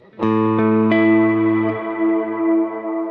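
A single electric guitar chord played through a Kemper Profiler rings out loudly with a plate reverb that blooms in after about half a second, the note sustaining and slowly decaying alone.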